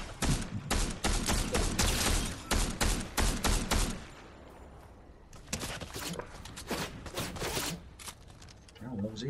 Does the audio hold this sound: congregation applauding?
no